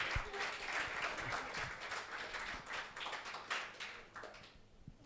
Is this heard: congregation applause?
yes